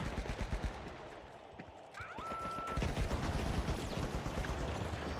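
Turrets firing in The Finals, a steady dense rattle of rapid shots at moderate distance, continuous through the clip amid busy game noise and a brief whistling tone.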